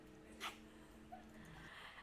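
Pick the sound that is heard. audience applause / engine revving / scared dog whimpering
scared dog whimpering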